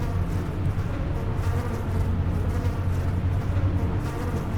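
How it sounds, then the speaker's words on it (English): Bees swarming in the Tex Murphy adventure game Tesla Effect, a dense, continuous low buzzing that stays close and steady throughout. "I'm strolling casually through there with all these bees buzzing around"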